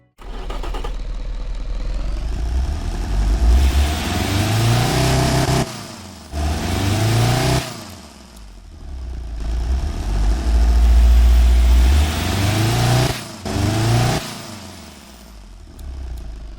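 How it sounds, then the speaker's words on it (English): A turbocharged diesel sports car engine in the video game Automation revs repeatedly, rising in pitch through several loud acceleration pulls with brief drops between shifts, close and unaccompanied by speech. "let's get to hear what this turbo diesel engine sounds like right now"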